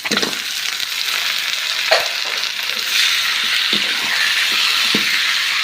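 Cleaned country chicken pieces fry in a pan with tomato, shallots and garlic: a loud, continuous close sizzle broken by occasional spatula scrapes and clicks as the meat is stirred.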